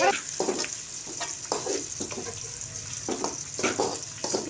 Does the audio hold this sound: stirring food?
yes